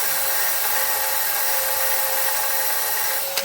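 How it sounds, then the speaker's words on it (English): A drill spins a metal pinhead sight part for a chunk gun against a grinder, giving a steady, loud, continuous high whine and grinding hiss that holds throughout with no voices. "I've got it in the drill."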